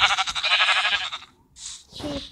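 Sheep bleating in the video game Minecraft, a wavering bleat followed after a short gap by a couple of briefer calls, clear and close with no talk over them.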